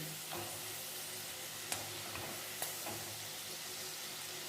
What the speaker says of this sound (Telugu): చూడండి ఇట్లాగే వేగనివ్వండి. బెండకాయ కూడా బాగా వేగిపోయింది.